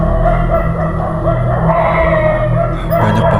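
Many dogs bark and yip in the distance near a forest, a dense, continuous chorus with overlapping howls and whimpers under a steady background.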